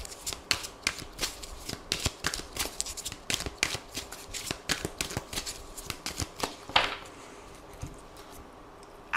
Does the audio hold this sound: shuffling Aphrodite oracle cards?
yes